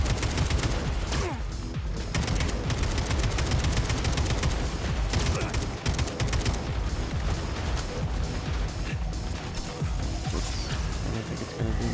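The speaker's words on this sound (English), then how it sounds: "My shotgun, I'm shooting way too far away." Dense, continuous gunfire from a video game fight against robots in Atomic Heart, with shotgun blasts mixed into rapid overlapping shots and metallic crashes, loud and unbroken throughout.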